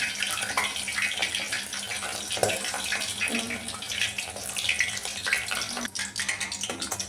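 Mutton frying in hot oil, a steady dense sizzle and crackle with oil spattering, continuous and close throughout with small bursts of popping.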